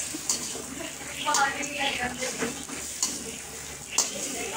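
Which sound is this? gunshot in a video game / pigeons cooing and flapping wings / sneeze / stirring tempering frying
stirring tempering frying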